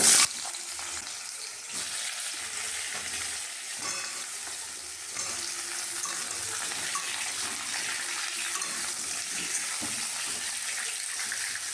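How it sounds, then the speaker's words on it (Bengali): Potato and pumpkin pieces fry in oil in a wok, a continuous close sizzle with occasional stirring knocks and scrapes, growing slightly louder partway through, with no voices. "আলু মিষ্টি কুমড়োটা ভেজে নেব।"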